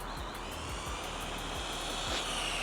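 A small RC car's electric motor whines at full throttle in a continuous high, buzzing drone, with faint rhythmic ticking and a slight rise in pitch near the end.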